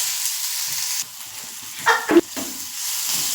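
Onion stirred and frying in a pan until soft, a continuous sizzle with a few brief scraping stirs near the middle, close and fairly loud.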